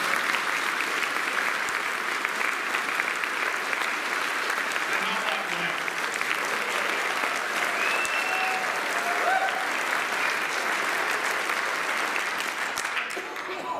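A crowd applauds performers at a show, a dense, even round of clapping that carries on steadily for the whole stretch, with a few faint voices mixed in.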